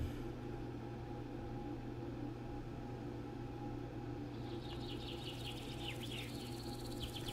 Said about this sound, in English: Nice little detail with the extra background noises of the birds and stuff.